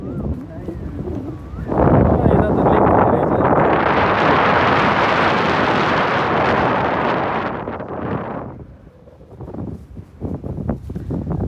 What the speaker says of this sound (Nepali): सिरिरी हावा खाँदै जाने हो।